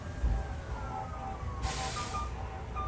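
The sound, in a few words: emergency vehicle sirens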